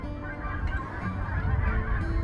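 Migrating geese honk repeatedly overhead in Edmonton, Alberta, Canada, a steady chorus of calls at moderate loudness with a faint low rumble beneath.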